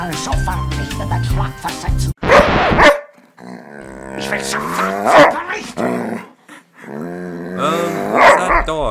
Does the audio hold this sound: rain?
no